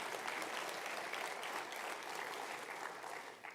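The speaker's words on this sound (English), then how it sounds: "let's clap for that one" A seated audience at a senior awards night claps for an honoree, a sustained even roll of many hands that fades slightly toward the end, heard alone without talk.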